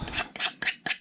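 Four quick, rhythmic rasping strokes of a file chamfer and bevel the edge of a model USS Albacore submarine, close and crisp, with no talking.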